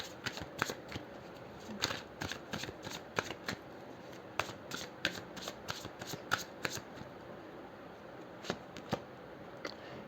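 Tarot cards are shuffled close by in a steady run of crisp, papery riffles and slaps, repeating at an uneven rhythm over a faint room hiss, with no voices.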